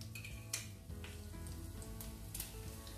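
Peanuts and chopped green chillies sizzle in hot oil in a pan, a steady crackling hiss broken by occasional scrapes and clinks of a spoon stirring against the metal, close and unaccompanied by speech.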